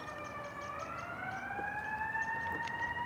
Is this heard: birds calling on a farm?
no